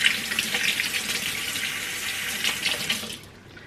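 Water runs steadily from a kitchen sink tap as items are rinsed, a continuous splashing hiss close by that tapers off as the flow is shut off near the end.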